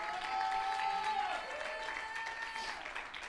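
Church congregation cheering and clapping steadily at a service, a broad wash of applause with a sustained tone riding over it throughout.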